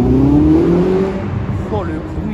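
A red Ferrari SF90 at a car-spotting gathering pulls away hard, its rising engine note swelling loud and close over crowd chatter and people talking.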